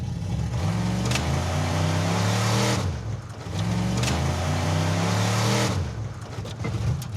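A Mazda car launches at full throttle from a standstill, its engine roaring loud and close in two long revving pulls separated by a brief dip, with no talking over it.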